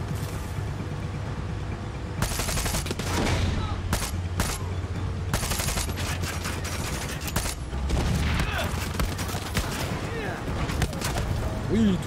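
Heavy gunfire from the video game Far Cry 6, sustained bursts of automatic fire and loud shots crackling across the scene with explosive booms, mixed with game noise and someone talking over it.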